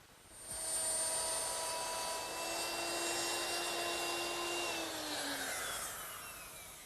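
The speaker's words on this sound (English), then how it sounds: "So now I'm ready to plow out all those recesses." Router fitted with a round nose bit plowing hinge recesses in wood, a steady high whine that spins up, holds loud and close for several seconds with the pitch sagging under load, then winds down.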